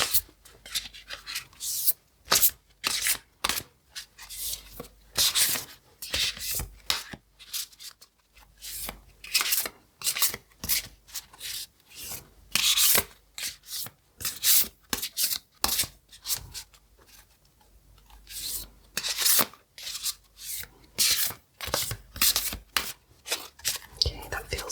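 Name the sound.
shuffling divination cards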